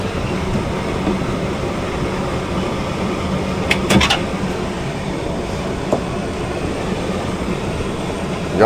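Shop vacuum used to pull out an air conditioning condensate drain line, a steady loud broadband motor roar throughout with a few brief clunks and rattles partway through.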